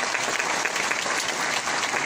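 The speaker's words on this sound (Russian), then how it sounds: "давайте проводим оркестр бурные аплодисменты" A hall audience gives a military orchestra stormy, sustained applause at the Officers of Russia annual awards ceremony. The clapping is loud, dense and continuous, with no voices over it.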